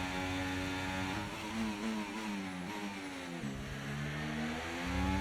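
Formula 1 cars in an F1 racing game at Australia: a high, buzzing engine note climbs through gear changes, dipping and rising again in sharp steps, loud and close with no talking.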